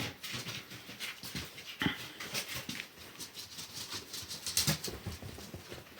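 A newborn puppy, still blind, whimpers faintly and pants up close, with soft rustling and pattering movement around it in a quiet setting.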